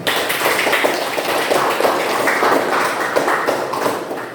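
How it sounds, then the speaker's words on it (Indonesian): Classroom applause from a group of students, steady continuous clapping close by and fairly loud for the whole stretch, with no talk over it. "mari kita berikan aplaus untuk kita semua"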